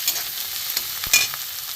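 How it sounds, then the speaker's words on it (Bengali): Chopped tomato and onion sautéing in a pan for fish curry, a soft continuous sizzle with light stirring scrapes and one faint clack, close and steady, no voices. "এগুলো একটু ভালো করে কষিয়ে নেব।"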